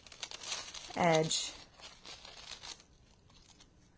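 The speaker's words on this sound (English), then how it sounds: "I'm just going to use my scissors tonight and make a curvy line" Scissors cut a curvy line along a paper edge for a spring birdhouse craft, giving soft crinkling snips near and close under a brief spoken word.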